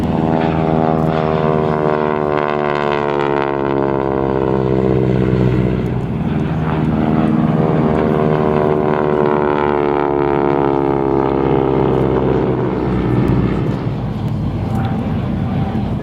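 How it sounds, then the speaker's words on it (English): A 1942 BT-13 propeller trainer passes over an airshow, its radial engine droning loud and steady with a rich, buzzing harmonic tone that slowly shifts in pitch as it flies by. "Here comes Rob Gilman in that beautiful BT-13."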